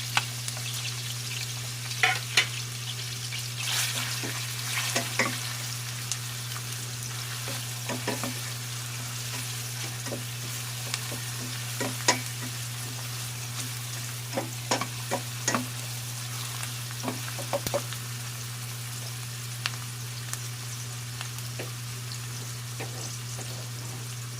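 Garlic sautés in a pan for a crispy pork with shrimp paste dish, a steady close sizzle with scattered crackles and occasional sharp stirring clicks, and no talk over it.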